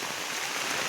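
Heavy rain pours down in a dense, steady hiss with no gaps, loud and close, and no voices can be heard over it.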